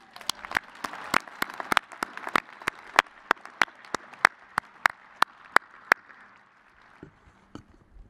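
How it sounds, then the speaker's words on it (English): Applause for graduating students at an outdoor engineering and optical sciences commencement on a campus, heard as sharp, evenly spaced claps over a soft wash of crowd clapping that fades out near the end. "I think that deserves a round of applause."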